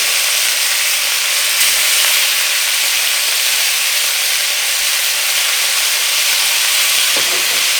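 Short rib meat searing in a hot pan, a loud continuous sizzling hiss that holds steady from start to finish, close up and alone with no talking.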